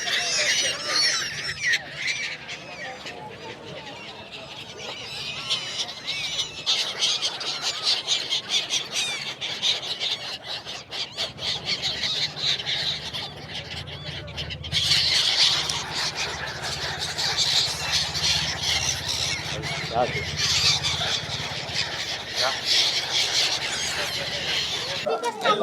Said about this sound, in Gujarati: આપણે જો પક્ષીને ગાંઠિયા ખવડાવીએ